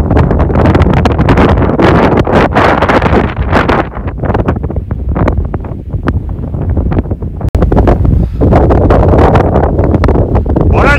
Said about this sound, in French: il y a tellement de vent. On doit être au moins à 60 km/h de vent